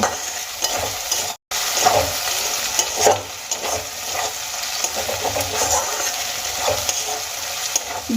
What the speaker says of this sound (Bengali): আদার পেস্ট আর পেঁয়াজ কুচি আমি দু মিনিটের মতো ভেজে নেব